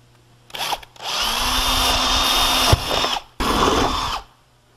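A power drill bores rivet holes in a metal rudder spar for a homebuilt aircraft: three close, loud whining bursts, one short and two longer, separated by brief pauses.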